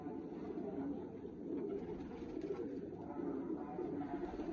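Golden pigeons, Teddy pigeons and a mixed flock of domestic breeds coo steadily in a loft, a continuous low murmur of overlapping calls held at an even level throughout.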